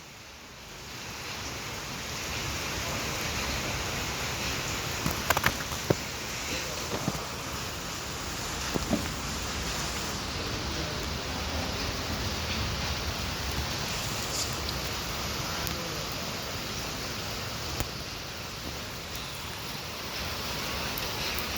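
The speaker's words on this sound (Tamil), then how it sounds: "இன்னைக்கான மழை." Steady rain falls in a broad, even hiss over banana plants and outdoor tanks, with a few brief sharper drips and splashes breaking the constant wash; no voices.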